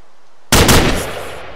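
A single sharp, loud gunshot bursts out of silence in a modded Minecraft game, followed by a quick decaying crackle and tail.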